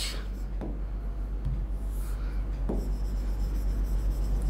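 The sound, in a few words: chalk writing on a board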